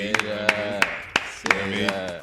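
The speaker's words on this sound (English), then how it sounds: "we're going to do a little hand clap for my man Noble in the Museum TV" A few sparse hand claps for a guest, isolated sharp slaps spaced irregularly over a sustained voice or tonal background, close and moderately loud.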